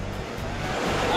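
Sea waves and rushing water as a passenger boat pushes out from shore into the open ocean off Africa, a loud continuous wash with wind buffeting the microphone.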